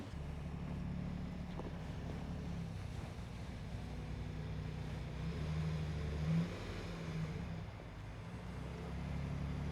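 A car with traction control switched off climbs a hill in a one-wheel-drive test, its engine holding a steady low drone with a slight surge midway and no talk over it.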